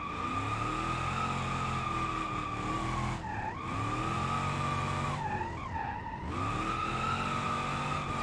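Car drifting in BeamNG, tires squealing continuously over a steady high engine whine, with brief dips as the car shifts between slides, loud and close throughout.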